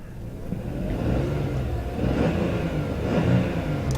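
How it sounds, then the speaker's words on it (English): A Volkswagen Fox 1.2 three-cylinder engine idles close by at about 1,000 RPM with an uneven, pulsing warble, rising and falling slightly in a lumpy rhythm. "There's the funny sort of 3-cylinder warble."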